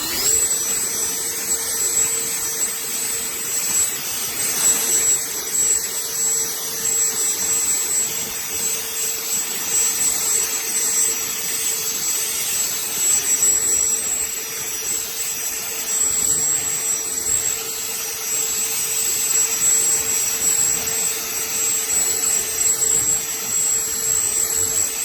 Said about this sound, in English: I think that's not too bad for a very lightweight battery-powered blower.